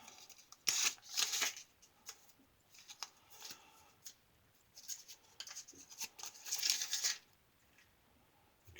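Crinkly paper rustling and tearing as a double-wrapped Zomchi Superior Platinum razor blade is unwrapped, two short bursts of close, faint crackling separated by quieter handling.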